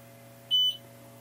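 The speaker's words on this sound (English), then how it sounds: "the machine's going to beep" A single short electronic start beep from an xTool F1 laser engraver, clear and close, sounding over a low steady machine hum.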